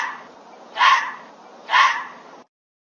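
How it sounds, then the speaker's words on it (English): A fox barks twice, about a second apart, each a short harsh yelp rising over a steady low background hiss, fairly close and clear with no talking. "F for fox."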